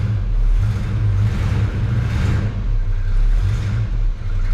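A barn-find Dodge Charger Daytona, abandoned for 32 years, runs close by with a deep, rough engine rumble that swells and eases in a few revving surges, with some clatter and no speech.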